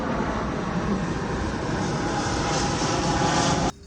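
An airplane flying overhead, a loud, steady engine roar that fills the whole stretch without a break and then cuts off abruptly at the end.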